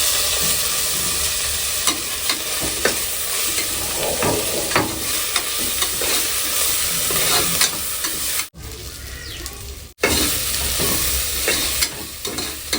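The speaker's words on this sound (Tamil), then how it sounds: "பாருங்கப்பா நல்லா வதங்கிடுச்சுப்பா" Ginger, garlic, mint and coriander sautéing in oil for biryani, a loud, dense sizzle with repeated stirring scrapes, briefly dropping away for a moment before resuming.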